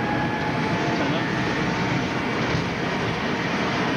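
An amusement park train at Blackpool Pleasure Beach rumbles steadily past at close range, with a continuous low roar and faint rattling throughout.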